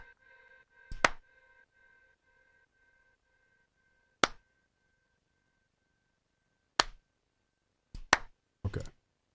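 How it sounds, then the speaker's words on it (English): Clap samples from the Drums That Knock Volume 3 kit fire one at a time as isolated sharp hits spaced seconds apart, then a quick pair and a final burst, crisp and close over near silence. "I'm just going to load these claps."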